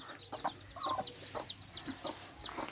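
Chickens cluck softly nearby in a run of short, repeated calls, fairly quiet and close.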